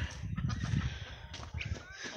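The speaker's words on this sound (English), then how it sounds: "38 turkeys in here, and they think I'm their daddy." Flock of 38 turkeys calling together in their pen on a family farm, a busy overlapping chorus of gobbles and clucks, close and fairly loud, running steadily through the whole moment.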